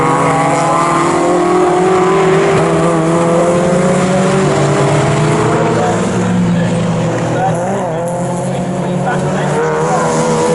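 MG Midget race cars, joined by a couple of MG ZRs, battling at Snetterton circuit in a club race; a steady, loud engine drone with rising and falling harmonic whines as cars pass, with commentary over it.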